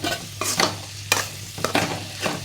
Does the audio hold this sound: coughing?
no